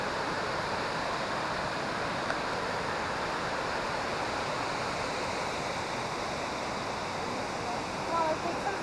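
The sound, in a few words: waterfalls at Krka National Park, Croatia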